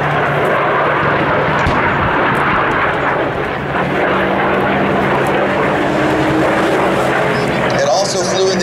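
A piston-engine fighter aircraft, the F4U Corsair, flies at an air show at Beale, its loud, steady propeller-engine roar filling the air continuously while a voice talks over it.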